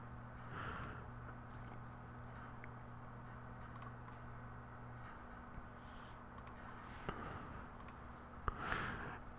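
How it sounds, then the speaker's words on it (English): A computer mouse clicks during logo drawing work in design software: a few faint, sparse clicks spaced over several seconds, under a low steady hum with no talking. "And then clicking here."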